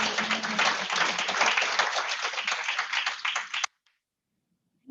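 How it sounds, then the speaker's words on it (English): Warm applause from a small audience at a fireside chat welcoming a new team member, a dense run of clapping that stops abruptly after a few seconds, leaving near silence. "Can we have a huge round of applause and welcome him to our team?"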